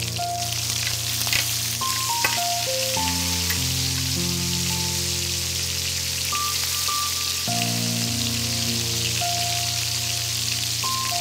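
Cherry tomatoes added to a hot pan of mushrooms fry in leftover lamb fat and spices, giving a steady soft sizzle under loud, continuous melodic background music.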